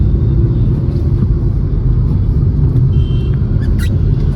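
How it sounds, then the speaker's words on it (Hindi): A car cruises in third gear through late-night city traffic, a steady loud low engine and road rumble heard from inside the cabin, with no talking. "it is the third gear. You get the right speed and the right amount of torque which you need to ride in the city traffic"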